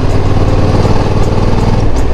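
A Honda NT1100 DCT motorcycle engine rumbles continuously, a loud, low, throbbing drone heard close up while riding, with no break in the sound.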